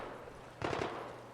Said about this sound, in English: They can have all the gunshots they want over there.